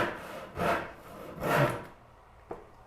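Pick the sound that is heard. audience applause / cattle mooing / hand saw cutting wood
hand saw cutting wood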